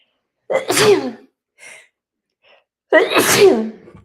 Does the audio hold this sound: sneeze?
yes